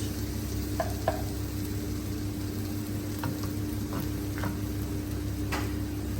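Tomatoes sizzle steadily in a hot pan while a utensil scrapes and taps a few times, close by, as they fry for tomato rice pilaf.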